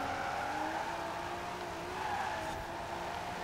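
A Ford GT40 Ecoboost in Forza Horizon 4 drones under load as its tires squeal steadily. The noise stays continuous and close, with the engine pitch wavering slightly through the corner.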